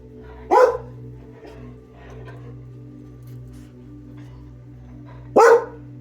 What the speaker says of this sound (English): I had to do dog damage control so that the doodle was not barking your ears off.